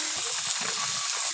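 Water lily stems frying in mustard oil in a pan, a steady close sizzle and hiss running unbroken throughout.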